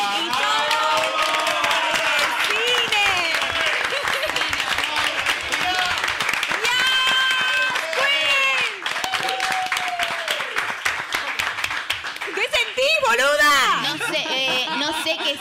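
A huge crowd of 18,000 fills the Movistar Arena in Buenos Aires, applauding and cheering loudly and continuously, with voices and shouts mixed in throughout and a swell of screaming near the end.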